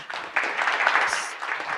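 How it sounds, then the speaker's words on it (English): Applause from a panel audience at a retail-tech talk, a moderate, somewhat distant patter of clapping that rises quickly and carries on evenly to the end. "round of applause"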